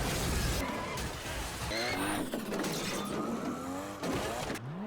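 A Nissan Silvia skids and squeals as a failed drift ends in a crash, with loud engine roar, sliding tire screeches and wind-down whines filling the scene, no talk.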